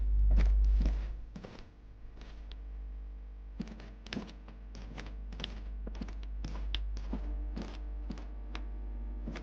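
Knocking on a door in the Disco Elysium: Final Cut video game: a long run of sharp, close knocks in uneven bursts, loud and separate, over a steady low hum, with no talk.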